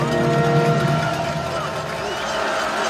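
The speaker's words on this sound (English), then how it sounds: "This crowd coming alive here on 3rd and 4." A football stadium crowd at a Troy at Liberty college game roars loudly and steadily as the home fans come alive on third down, with a broadcast commentator talking over it.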